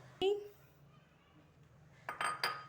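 Yogurt goes into a large bowl, marked by a sharp utensil clink against the dish near the start and a quick cluster of ringing clinks toward the end, with quiet room tone between.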